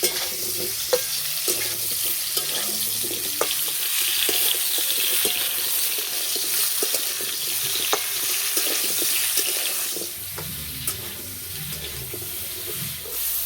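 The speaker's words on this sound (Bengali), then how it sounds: "আম যদি এইভাবে একটু ভেজে আচার করা হয় না" Mango pieces frying in a wok for pickle, a continuous soft sizzle with scattered clinks and scraping stirs of a utensil against the pan, close and steady, dipping briefly near the end before resuming.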